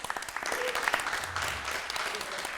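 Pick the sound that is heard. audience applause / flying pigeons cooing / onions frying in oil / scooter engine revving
audience applause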